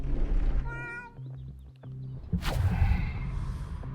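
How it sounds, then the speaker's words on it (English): A cartoon cat in the video game Winnie's Hole lets out one short meow, followed by light thunks and a sharp swooshing combat effect. "Let's fight a cat."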